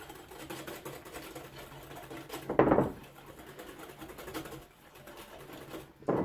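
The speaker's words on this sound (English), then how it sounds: "And we'll continue to whisk our eggs." Eggs whisked by hand in a bowl while making Romanian chicken soup (ciorba radauteana) give a steady, rapid scraping and clicking of the whisk, fairly close and continuous, with a couple of louder strokes and no talk.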